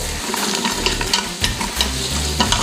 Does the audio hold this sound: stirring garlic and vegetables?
yes